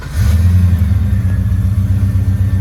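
A Nissan Patrol GU fitted with an LS1 V8 idles loudly and close by, with a steady deep rumble and a brief rise at the start, and no talking.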